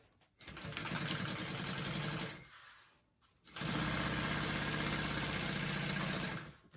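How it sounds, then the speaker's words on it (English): A sewing machine basting along the bottom edge of a handbag, running in two steady whirring bursts with a short pause between, close and fairly loud. "I'm gonna sew and baste this from the back of my bag"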